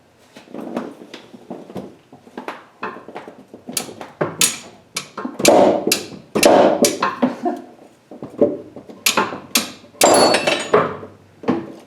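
Repeated sharp metallic hammer blows strike a bolt on a KA24DEAT engine mounted on a stand, ringing out in irregular bursts, some ringing briefly, close by in a workshop setting.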